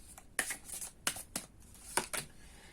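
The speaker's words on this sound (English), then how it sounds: "let's keep shuffling and see what else" Tarot cards are shuffled by hand in a series of crisp riffling bursts, about five or six quick papery flurries separated by short pauses, close and fairly quiet.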